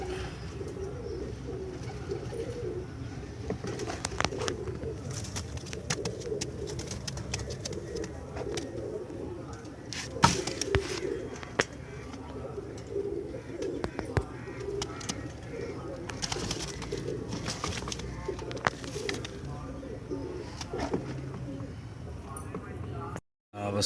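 Pigeons at a pigeon market in Multan coo steadily in low throaty bursts, with a mix of birds near and far and occasional wing flutters and handling knocks, while people talk in the background.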